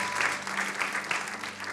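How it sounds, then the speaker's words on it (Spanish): A church congregation clapping loudly in praise of God during a Spanish-language sermon, a dense, continuous wash of many hands that is fairly distant and reverberant, with a low hum beneath it. "Denle un aplauso fuerte al Señor porque Él es bueno"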